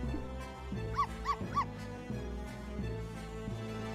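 Constantine the dog from the video game Professor Layton vs Phoenix Wright gives three quick, high yipping barks over game background music, clear and close.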